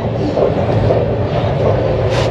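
Inside a carriage of the Kolkata to Guwahati train 02517 past Kishanganj, a loud, steady low rumble of the moving train with continuous rolling noise throughout.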